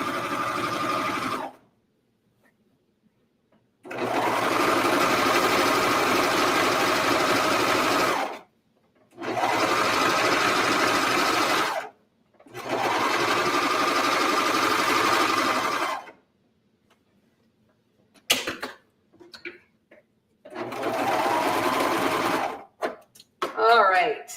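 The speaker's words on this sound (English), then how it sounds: "I'm just stitching around the top of the pants" Sewing machine stitching around the top of pajama pants, running in several long steady bursts with short pauses between, close and loud, followed by brief handling noise.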